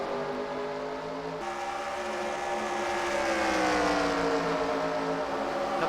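Dirt track race car engines in a racing video game at the Springfield Mile, several engines droning together with tones that shift in pitch as they accelerate, steady and close.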